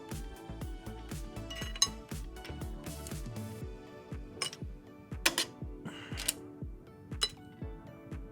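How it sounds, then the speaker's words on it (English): Clam shells clink against a plate as they are set around a serving of spaghetti vongole, a run of light, rhythmic ceramic taps and clicks, close and fairly quiet. "Put our clams around the outside here."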